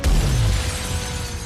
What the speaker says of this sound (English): He turns, and he just makes a beeline for the big glass window.